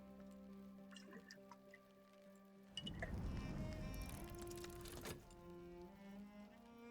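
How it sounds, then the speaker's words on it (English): A cup of coffee poured in the video game Book of Hours, a short liquid splash and trickle lasting about two seconds, with soft game music playing before and after. "So we'll pour out a cup of coffee."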